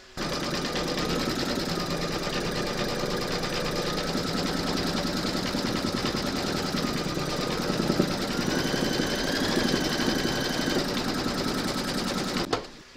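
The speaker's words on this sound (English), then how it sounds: "Making sure that you've got your matching bobbin and thread for the bone detail loaded into your machine, you're now going to stitch round number 4" An embroidery machine stitches a skeleton bone applique detail in a hoop, a fast steady mechanical chatter running close and continuous for the whole stretch before stopping abruptly near the end.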